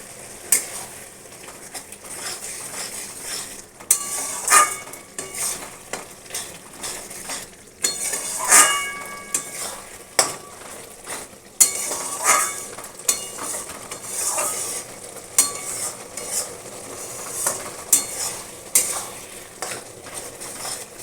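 Turmeric frying in oil for Bengali chicken curry, a continuous crackling sizzle broken by repeated scraping spoon strokes and occasional metallic clinks against the pan, close up.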